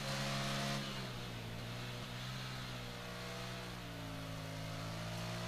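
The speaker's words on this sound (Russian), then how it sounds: "Звук такой, знаешь, не мясистый, такой средненький для мотоцикла." Engine of a 2014 Ducati Monster 696 motorcycle in the racing game Ride 3, a steady mid-pitched drone holding fairly even revs with slight pitch shifts, faint and continuous without speech.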